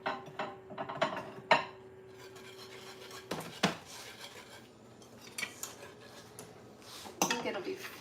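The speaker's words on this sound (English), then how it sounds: "I forgot I'm supposed to be stirring this consistently." A utensil scrapes and clinks against a pot while French silk pie filling is stirred, a close, quiet, irregular series of rubbing strokes and sharp metallic taps, with someone talking now and then.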